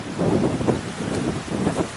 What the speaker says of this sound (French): je suis désolé, il va y avoir du vent